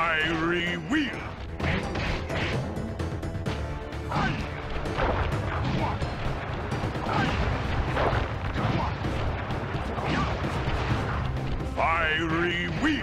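Panda King's fiery wheel attack in the Sly Cooper video game: repeated heavy crashing booms and impacts over game music and effects, with a voice talking at times throughout.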